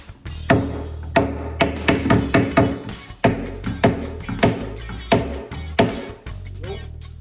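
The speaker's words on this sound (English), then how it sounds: "All right, let's see what happens. I got my dead blow hammer." Repeated heavy thuds of a dead blow hammer striking wood, about a dozen blows in an irregular rhythm, close and loud.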